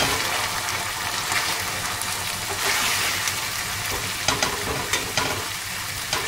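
Onion and tomato paste fry in a pan with a continuous sizzle, broken by occasional stirring scrapes and bursts of crackling.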